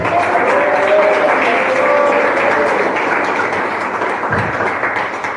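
A church congregation claps its hands during a sermon, a dense, loud wash of applause filling the whole stretch and easing slightly toward the end, with faint voices mixed in underneath.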